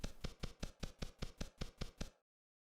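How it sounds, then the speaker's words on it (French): Footsteps of a player character in a video game, about ten even, crisp steps at a steady walking pace, close and alone, stopping abruptly into silence. "la première et seule chose que tu entends pour le moment, c'est le bruit de tes pas"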